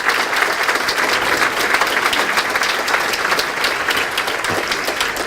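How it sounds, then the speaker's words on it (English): An audience at a chamber of commerce awards ceremony applauds in a room, with dense, steady, fairly loud clapping that holds even throughout. "If you could all stand up and give an applause at this time."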